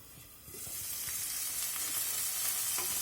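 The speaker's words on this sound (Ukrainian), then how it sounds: "і буду смажити цибулю" Onion fries in oil in a pan, the sizzle rising after a quiet start into a steady, bright hiss that stays fairly soft and close.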